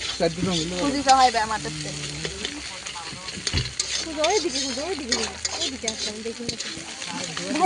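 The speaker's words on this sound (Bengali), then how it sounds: "এখানে পেঁয়াজ ভাজা হচ্ছে।" Onions sizzle as they fry in a wok at an outdoor picnic, a steady crackle running beneath people chatting nearby throughout.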